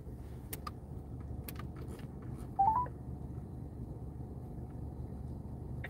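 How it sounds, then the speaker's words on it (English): A telephone number is dialed on a phone, a quick run of short DTMF keypad tones near the middle over a low background rumble, with a few faint clicks earlier. "Let me see if I can get China Mac on the phone"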